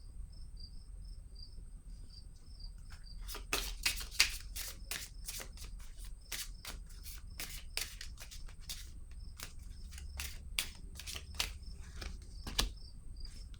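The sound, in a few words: shuffling and laying down cards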